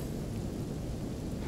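Steady rain falls with a deep thunder rumble in the fantasy game Divinity Original Sin, a dense, even wash of downpour with low rolling thunder under it and no voices.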